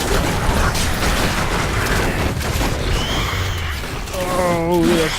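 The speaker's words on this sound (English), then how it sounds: "Oh, the explosions and the earthquakes." Continuous rumbling explosions and earthquake in the video game Diablo III, low booms with a shaking, crashing texture, ending in a rising synthetic tone sweep.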